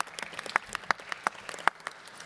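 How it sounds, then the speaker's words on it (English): Sparse, scattered clapping from a small audience at a tourism resilience forum, individual sharp claps standing out near the microphone over a thin background, lasting only a couple of seconds. "a special round of applause also for them"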